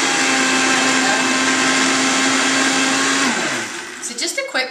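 A blender purees green peas with a loud, steady motor whine that holds for about three seconds, then winds down into rattling bursts.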